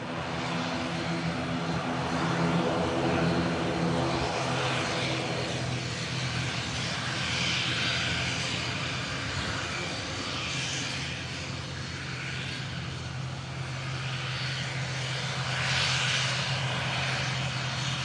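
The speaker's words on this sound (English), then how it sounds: "Aer Lingus, ATR 72. Just departing here, Manchester Airport's 23 right" Aer Lingus ATR 72 turboprop departing Manchester Airport's runway 23 right, a steady, fairly loud propeller and engine drone that holds throughout with a broad rushing roar and low humming tones.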